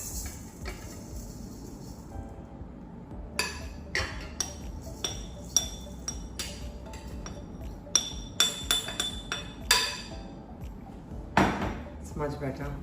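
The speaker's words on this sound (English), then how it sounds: "I'm going to transfer everything to a bigger bowl" Carrot cake ingredients are scraped and tipped into a stand mixer bowl, producing scattered clinks, taps and knocks of utensils against the bowl, irregular and close, with quiet room noise between them.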